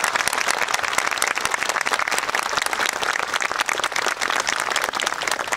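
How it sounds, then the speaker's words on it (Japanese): Broad, sustained audience applause at an outdoor gathering for a Zero fighter engine test run in Tokorozawa, many hands clapping steadily and loudly throughout. "今一度拍手をお願いいたします"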